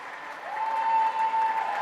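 Crowd applause and cheering for a swimmer finishing a 500 at a high school swim meet, Swampscott vs Beverly, a steady wash of clapping that swells midway, with a sustained whistle-like tone running through it.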